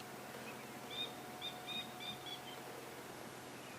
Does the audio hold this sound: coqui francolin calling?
yes